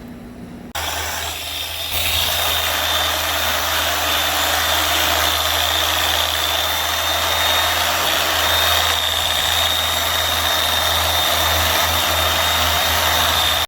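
Steady whine of a power sander working an aluminum wheel with deep gouges, running continuously at close range with a constant drone, no talking over it.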